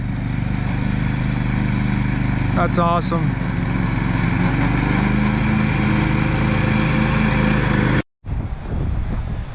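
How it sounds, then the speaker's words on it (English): A motor drones steadily and loudly from start to finish, like a lawn mower running nearby, while a person speaks briefly over it. "he's mowing us a landing strip"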